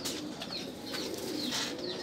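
Soft, low cooing from Teddy pigeons repeats steadily over a constant background hum, with faint bird calls overlapping; no talking.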